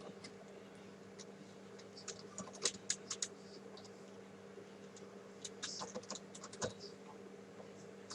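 Quiet, irregular clatter of fingers typing on a computer keyboard while writing code, with small bursts of keystrokes over a faint steady hum.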